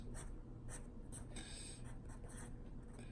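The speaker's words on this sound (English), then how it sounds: "So I'm going to write out those accents." Drum notation being written out by hand, a pen scratching on paper in short quiet strokes and brief bursts, close and alone.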